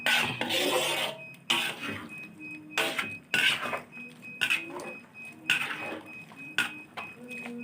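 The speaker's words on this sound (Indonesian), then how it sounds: "harus kita aduk terus supaya jangan nanti berbusa santannya" A spoon scrapes and clinks against a metal pot of coconut milk in repeated irregular strokes, close by, with short pauses between stirs.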